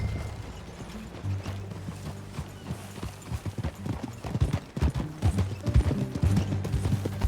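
Horse hooves clip-clop steadily while riding in Red Dead Redemption 2, with a low background rumble and an occasional snort or whinny; the hoofbeats grow louder and denser toward the end.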